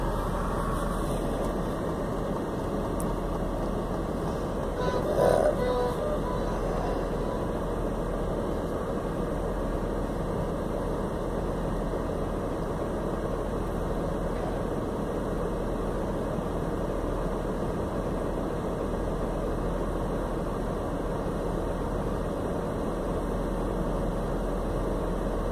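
A car engine fitted with individual throttle bodies and a light flywheel idles steadily at about 750 rpm, a low, even hum, quiet and unchanging for the whole stretch, with a faint bump partway through.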